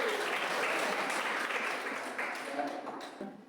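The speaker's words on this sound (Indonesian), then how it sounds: "tepuk tangan silakan" A classroom audience of students applauds in a dense, continuous wash of clapping that holds steady and then tapers off slightly, with a voice faintly present beneath.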